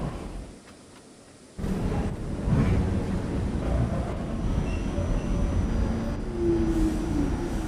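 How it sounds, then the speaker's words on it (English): An R46 subway car on the K local runs with a steady, loud rumble of rail noise and wheel roar that swells after a quieter opening, with faint squeals near the end. "There's a 170th Street bound K local train."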